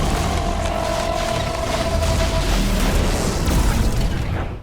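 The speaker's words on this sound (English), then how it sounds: "the villain vanished into thin air and exploded" Electro explodes in The Amazing Spider-Man film: a loud, sustained blast of broadband roar and deep rumble that fills the whole stretch, with a high electrical whine running through the first half.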